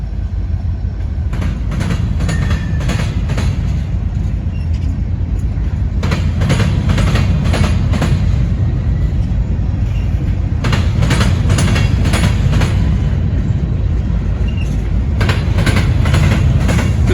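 A long Norfolk Southern freight train rolls past on an adjacent track near Decatur, a steady loud rumble with rhythmic clickety-clack bursts recurring every few seconds as wheel sets cross rail joints, no voices.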